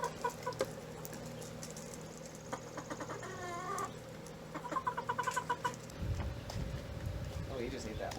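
Backyard chickens cluck in short bursts close by while being fed snacks outdoors, with a few sharper calls in between and a person speaking over them.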